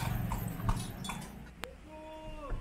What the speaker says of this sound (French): J'ai adoré me promener au rythme des sabots du cheval avec Mohamed qui était vraiment trop sympa.